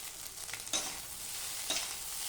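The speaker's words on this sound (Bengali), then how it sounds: "পুরো ভালো মতো ভাজাটা হয়ে যাচ্ছে।" Something frying in white (refined) oil ahead of adding chow mein noodles gives a steady, moderate broadband sizzle, with two sharper bursts of crackle and a few stirring scrapes, heard without talk.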